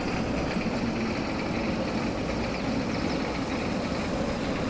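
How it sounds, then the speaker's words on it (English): A tractor engine idles steadily nearby, a continuous low rumble with a broad mechanical drone, no talk over it. "we're going to have to bring the tractor across with the trailer"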